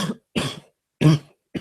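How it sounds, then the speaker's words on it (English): A man coughs in three or four separate bursts, each short and harsh with a throaty, tickly rasp, close and loud with brief silences between them. "I got a nasty tickly cough coming"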